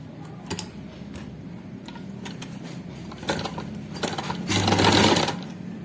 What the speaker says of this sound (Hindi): यहां से सिरे दोनों बराबर रखेंगे और पांव के फासले से सिलाई लगाएंगे